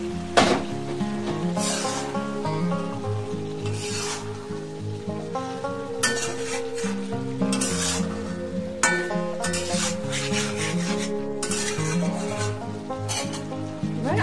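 Cubed onion and capsicum go into chicken karahi in a pan, with a steady close sizzle of frying under irregular scraping and stirring strokes against the metal, and no talking.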